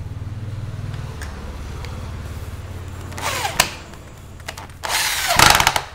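Power drill driving screws into a PMA aluminium window frame: a low motor whir at first, then short sharp bursts of higher-pitched drilling and grinding, close and fairly loud, with no speech.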